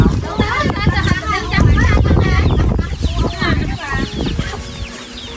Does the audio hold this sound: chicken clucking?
yes